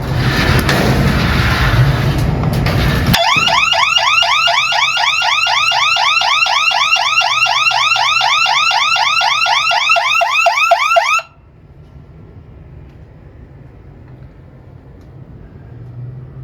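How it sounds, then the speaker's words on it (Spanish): A loud 12V relay-driven electronic alarm siren wails in rapid repeating sweeps over a rumbling background, then cuts off abruptly, leaving a low hum. "Cuando cerremos la alarma funcionará y se apagará, igual que cuando abre."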